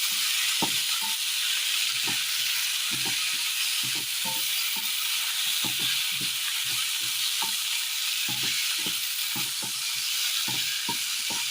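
Boiled, drained papaya pieces fry in a curry base, with a steady close sizzle and repeated scraping knocks of a spoon stirring through the pan, no voices.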